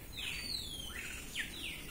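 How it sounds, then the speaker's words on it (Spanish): Birds chirp outdoors on a rural road in Ciudad Arce, El Salvador, several sharp, high, descending tweets repeated in quick succession, fairly faint over a low background hum. "Oigan los pájaros."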